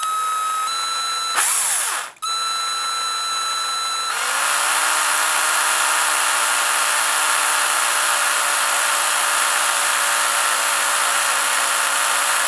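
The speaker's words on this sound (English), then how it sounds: "I'm going to take that dowel rod and put it in a drill and get a square file" A power drill spins a wooden dowel rod while a square file cuts a bevel and groove into it, giving a steady, loud high-pitched whine that runs continuously after a brief stop and restart, with no voices.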